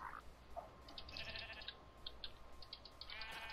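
Sheep in the Minecraft Tekkit modpack bleat a few times, faint and blocky, over a steady hiss of game background noise.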